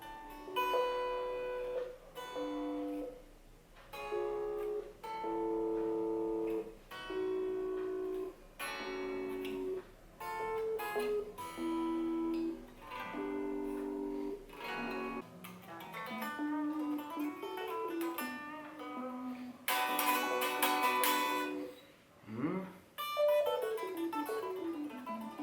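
A Jamstik MIDI guitar sounds through an Android app, producing a run of synthesized plucked notes and chords with varied pitches, a brief loud strummed burst near the end, clear and without speech.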